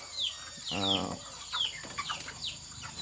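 Broiler chickens clucking and squawking while being weighed for sale at a poultry business, several short calls close by over a low hum, with faint talk in the background.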